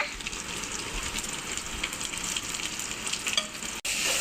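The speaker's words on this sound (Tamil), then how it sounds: "நல்லா வதக்கிக்கோங்க." Onion, green chili and garlic paste sauté in a hot pan with a steady close sizzle and stirring scrapes, fairly quiet and unbroken until a brief cut near the end, no talking.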